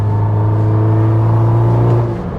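A Porsche Turbo S sports car accelerates hard, its engine a loud, steady, close-up drone that holds strong for about two seconds before easing slightly, with no voices.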